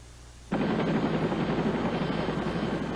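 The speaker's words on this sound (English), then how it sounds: "The helicopter came in." A loud, steady roar of an arriving rescue helicopter kicks in suddenly and continues, dense rotor and engine noise filling the clip.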